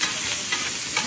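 Fish frying in hot oil at an outdoor lakeside stall, a dense continuous sizzle with soft scraping pulses as it is stirred.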